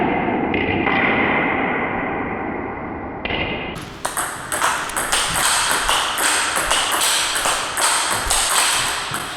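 A table tennis ball struck with Tibhar Aurus rubber during a rally gives quick, repeated hollow pings and taps that ring close and clear over a bright background hum.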